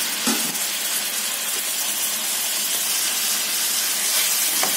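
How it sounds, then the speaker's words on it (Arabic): Meat frying in olive oil in a hot pan, a steady loud sizzle and hiss that runs the whole time with small crackles and no voices. "شوية زيت زيتون مشان نقلي اللحمة."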